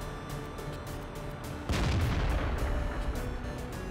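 A tank cannon fires a single heavy booming shot in World of Tanks while driving a Tier 9 T-55A, the blast landing midway through and rumbling into a sustained low roar over steady engine hum.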